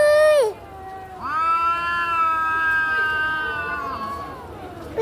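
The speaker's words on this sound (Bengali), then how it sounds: "বিড়াল কান্না করে দিতেছে।" A cat cries after a fight with another cat, giving a short meow and then a long, loud, wavering wail close by, with slight background noise.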